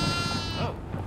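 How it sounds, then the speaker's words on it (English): A goat bleats in the horror video game Devour, a single wavering cry partway through over a dense, noisy game soundscape. "Goat!"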